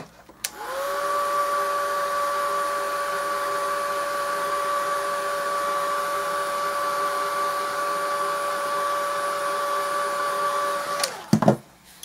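A heat tool blows over art journal paint medium, a loud steady whirring hum with a high whine that starts abruptly, holds for about ten seconds, then cuts off with a clunk.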